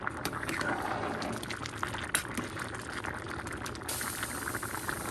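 White rice boiling in a pot on the stove, a steady dense bubbling and simmering that carries on without a break, close and fairly loud, with no talk over it.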